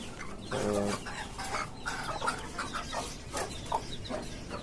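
Farm hens raising chicks naturally cluck softly in short, scattered bursts at close range, with a louder run of clucks near the start and quieter calls trailing after.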